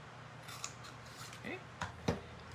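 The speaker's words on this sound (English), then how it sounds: "I'm going to banner cut it here." Scissors snip along the edge of a paper banner for a handmade Christmas card, a few quiet cuts close by over faint room noise.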